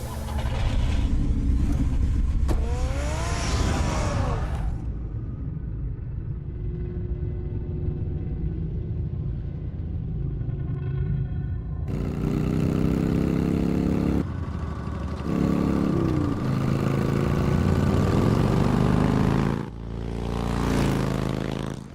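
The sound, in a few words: car engine running and driving in Batman Telltale video game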